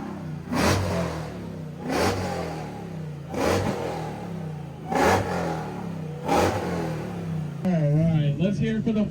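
A Ford Ram truck at a night car meet revs its engine in repeated loud bursts, about five evenly spaced vrooms, while a crowd shouts and cheers in the background.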